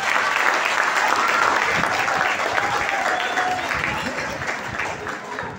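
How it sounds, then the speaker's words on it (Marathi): An audience at a school Marathi language day event gives sustained clapping, a dense, loud wash of many hands that holds steady and then eases slightly toward the end. "त्या कुणासाठी टाळ्या होत्या"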